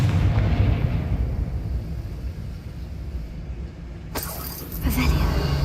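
A Confringo blasting spell in Hogwarts Legacy goes off as a loud explosive boom, with a sudden bright burst of sound near the end that rises over a steady rumbling game background.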